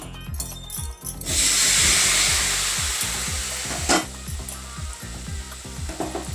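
Tomatoes frying in hot oil with cumin and mustard seeds for Odia-style tomato khata, a loud, steady sizzle with rhythmic scraping from stirring throughout.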